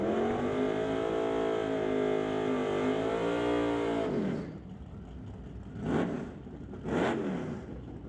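Drag race cars, a Chevrolet Malibu and a Ford Falcon, roar loudly at an NHRA Summit ET finals event, a sustained revving engine note that cuts off, followed by two shorter bursts of passing engine noise.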